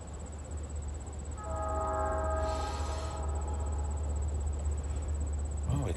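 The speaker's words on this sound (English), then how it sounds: "we caught a train today." A train passes in the distance with a long sustained horn blast that rises then fades, over a steady rumbling background and insect buzz.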